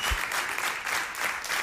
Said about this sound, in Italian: Facciamo un applauso a Lina De Palma